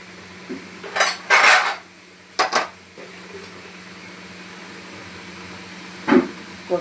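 Masala pasta is stirred and mixed in a pan, a metal spoon scraping and clanking against it in a few short bursts over a quiet steamy hiss.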